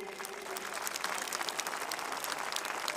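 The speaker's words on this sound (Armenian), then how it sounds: "եկեք մեկ անգամ ևս ծափահարենք մեր հերոսածին մայրերին" A crowd at an outdoor march applauds the mothers with dense, sustained clapping that fills the whole stretch evenly, moderately loud with a busy texture of many hands.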